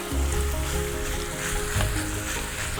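Pork tipped into a skillet of onions and garlic for Filipino menudo sizzles loudly and steadily at close range, a dense crackling hiss with a brief surge partway through and no talk.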